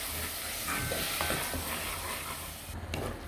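Chopped tomatoes stirred in a pan, with a steady sizzle and soft scraping under a constant hiss of cooking, close and continuous with no talking.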